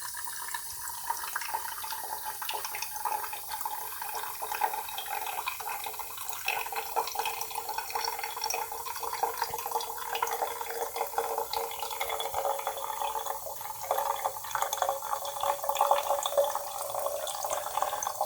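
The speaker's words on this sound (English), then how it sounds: "I'm just gonna pour this water in there and fill it up" Tap water pours into the reservoir of a QQcute portable water flosser, a steady, fairly quiet splashing trickle that keeps going with small fluctuations and no speech.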